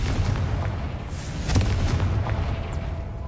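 Confringo spell explosion in Hogwarts Legacy, a heavy booming blast with rumbling low end and a sharp crack near the middle, loud and close with debris-like crackle around it.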